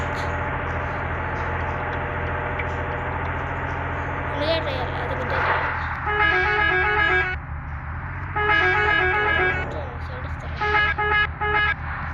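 A steady engine hum runs throughout, then a bus horn in the Bus Simulator India video game honks in several long, sustained blasts in the second half, loud and close.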